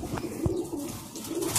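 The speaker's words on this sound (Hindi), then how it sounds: "पहला कबूतर है गोल्डन कबूतर" A golden pigeon gives soft low cooing, a few short muffled coos close by against light background noise, with no speech.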